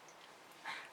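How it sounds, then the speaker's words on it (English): A small pet dog gives a brief, faint whimper from a quiet indoor room, with a short high whine rising near the end of a second of near-silence. "So if you hear her barking in the background"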